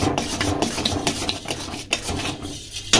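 A spoon scrapes and stirs rice flour paste in a pan over full flame while making payesh pitha, a continuous rough rasping and rubbing with occasional light knocks against the metal, close up and alone.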